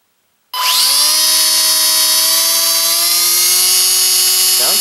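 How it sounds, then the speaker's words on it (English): Electric motor and propeller on a WLToys Cessna 182 RC plane spin up suddenly from silence to a loud, steady high-pitched whine with a buzzy tonal hum, held close-up for several seconds. "So let's give this a quick motor test."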